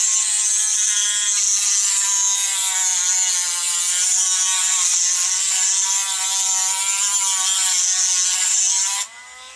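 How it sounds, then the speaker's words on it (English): A cheap Aldi Dremel-style rotary tool grinds a bit away on an Amtron CB220 signal injector, a loud, steady high-pitched whine with a buzzing edge, held close and alone for about nine seconds before cutting off abruptly. "he's had to get his rotary tool out into that little Aldi pretend Dremel-type tool. And he's grinding a bit away"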